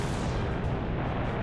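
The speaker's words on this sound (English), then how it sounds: "So quickly shoot him, then move out of the way" Continuous roaring, dense gunfire from the cannons and machine guns of a La-5F fighter in War Thunder arcade air combat, loud and sustained with heavy booming low end, no talk.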